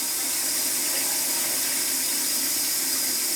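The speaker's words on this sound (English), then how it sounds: "I'm going to rinse my face" Steady hiss of water running from a sink tap while a face is rinsed, continuous and fairly loud throughout with no talking.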